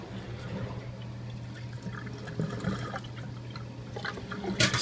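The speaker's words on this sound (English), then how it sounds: "See, it's draining inside the garbage disposal now, and there's no water coming out of the air gap." A dishwasher drains through its air gap into the garbage disposal, giving a steady running gurgle of water under a low hum, with a brief louder splash near the end.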